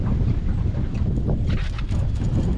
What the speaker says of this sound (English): I am anchored backwards here because the wind is blowing upstream